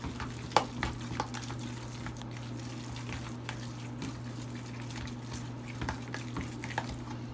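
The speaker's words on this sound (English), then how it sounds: "And then stir that all up again." Sloppy joe mixture with Heinz barbecue sauce stirred in a pan, soft wet scraping and clicks over a steady low hum, with a few sharper utensil taps.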